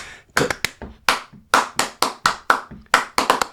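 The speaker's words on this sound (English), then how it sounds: "proper flamenco, has got all this clapping" Flamenco-style hand clapping: sharp, crisp claps ring out alone in an irregular, syncopated pattern, with about a dozen close, loud strikes and short gaps between bursts.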